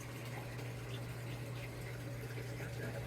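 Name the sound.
Samsung washing machine filling water for second rinse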